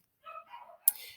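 Dogs bark inside a house at a passerby outside, with a short run of barks and then one sharp, loud bark partway through, fairly close and alone without talk.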